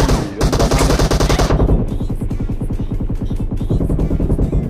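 AKM assault rifle in PUBG Mobile fires loud, sustained full-auto bursts: a dense rapid rattle of shots, with a brief slower stretch and a final burst, no talking over it.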